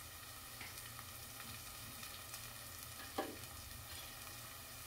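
Spices with turmeric sautéing in a pan for a village-style dish, a low continuous frying sizzle with a faint scrape of stirring, quiet and steady throughout.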